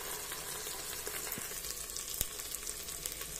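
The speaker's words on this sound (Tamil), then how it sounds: "இஞ்சி பூண்டு பேஸ்ட் ஆட் பண்ணிட்டு அடி புடிக்காத அளவுக்கு சிம்ல வச்சி நல்லா கிண்டி விடுங்க" Mint leaves, green chilies and ginger-garlic paste fry in a pan on low heat, giving a steady close sizzle and crackle with a couple of brief stirring scrapes.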